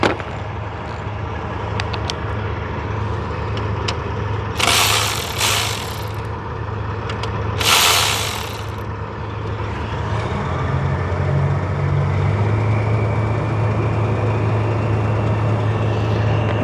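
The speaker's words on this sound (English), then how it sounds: "we are in a truck stop, so you may hear the trucks running around here." Diesel trucks idle and rumble steadily at a truck stop, a constant low drone with two loud bursts of hissing air, likely air brakes, partway through; no talking.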